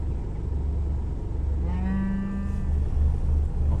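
One cow lets out a single long, low moo from fairly close on a farm, set against steady outdoor engine rumble, with no talking.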